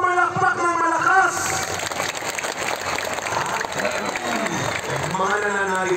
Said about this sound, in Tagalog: lahat ng mga sumasampalataya sa Jesus Nazareno, pumalakpak ng malakas.